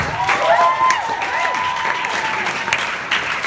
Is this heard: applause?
yes